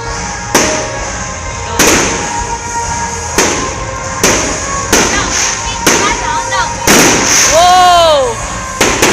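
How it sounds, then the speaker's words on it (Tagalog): Fireworks bursting at an inauguration celebration in Talisay City, about seven loud sharp booms spaced a second or so apart, with crackling between them and excited voices calling out over the display. "Fireworks!"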